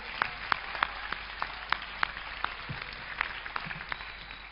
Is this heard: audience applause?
yes